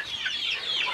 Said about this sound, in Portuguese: é o tempo que as galinhas estão botando lá embaixo